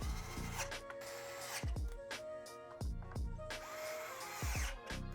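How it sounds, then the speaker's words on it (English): A power driver sets the four top foot pad screws on a Onewheel GT board, whirring in short repeated bursts with rising and falling pitch and brief pauses between screws, close by. "I'm gonna grab both my foot pads, set them in place, and I'm gonna do the 4 top foot pad screws."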